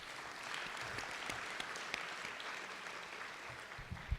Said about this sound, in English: Yeah, round of applause for lab.